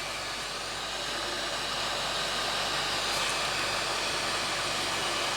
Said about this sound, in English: Lift up our heating gun.